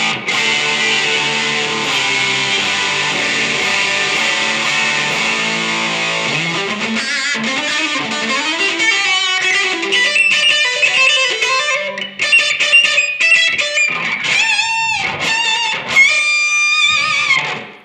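Electric guitar played through a BOSS JB-2 Angry Driver overdrive pedal, with sustained driven chords at first, then a run of single-note lines and choppy strummed hits, loud and alone.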